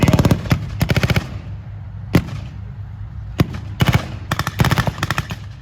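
Rapid bursts of machine-gun fire and single blank gunshots crack out at a Sherman tank battle reenactment of Aquino, loud and close, with short rattling volleys between sharp isolated reports over a low rumble.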